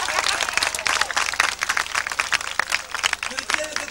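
Audience applause for children performing on stage at an outdoor festival in Beatrixpark, Schiedam, a dense spread of clapping lasting throughout, with crowd noise and voices mixed in.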